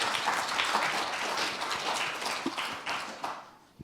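An audience applauding after a talk, a dense, steady wash of many hands clapping that carries on evenly and then tapers off toward the end, with no voices over it.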